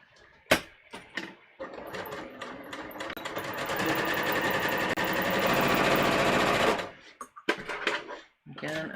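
A sewing machine runs in one steady, loud burst while stitching a bodice muslin, bracketed by brief handling clicks and talk before and after.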